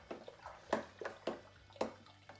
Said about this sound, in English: we need to get a really, really good stir and get it all mixed in